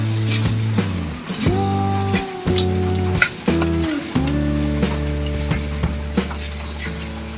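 Bisaya-style fried rice with green onions is stirred and fried in a pan indoors, with steady close sizzling and repeated scraping strokes of a utensil against the pan, plus a few light clinks.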